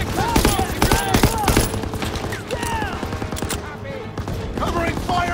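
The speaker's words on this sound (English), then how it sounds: "Gotta suppress the machine gun!" Rapid machine gun bursts and overlapping rifle fire crackle loudly through a World War II battle in Call of Duty WWII, with dense fusillade nearly continuous under shouted soldier voices.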